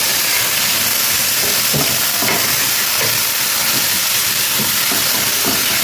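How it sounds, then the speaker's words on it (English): Tomato, scallion, onion, thyme and sweet pepper frying in hot oil make a loud, continuous sizzle and hiss, close up, with faint stirring knocks and no voices. "now I'm gonna add the first season, which is tomato, scallion, onion, and thyme"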